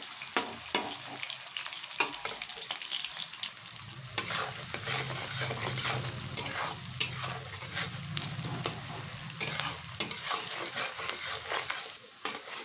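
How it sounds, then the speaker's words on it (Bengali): Chopped onion frying in well-heated oil for a chicken rice dish, a steady crackling sizzle with repeated scraping strokes of a spatula stirring through the pan, close and continuous with no voices. "এবার এর মধ্যে দিয়ে দিচ্ছি একটা পেঁয়াজ কেটে নিয়েছিলাম পেঁয়াজটাকে একটু ভেজে নেব"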